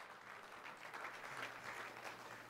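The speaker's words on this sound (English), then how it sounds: "I think I should get a hand clap of appreciation just for getting all of those correct." Faint, steady applause from a church congregation during a Sunday service, a soft continuous patter of many hands clapping at a distance with no talk over it.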